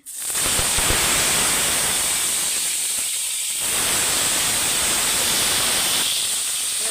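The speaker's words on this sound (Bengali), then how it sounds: "গরম তেলে আমি সামান্য লবণ দিয়ে দিচ্ছি যেন তেলটা না ছিটে গায়ে এবার পটলগুলো দিয়ে দিচ্ছি" Pointed gourd (potol) pieces dropped into hot salted oil in a pan, a loud sudden sizzle that settles into a steady, bright frying hiss, dipping briefly before swelling again.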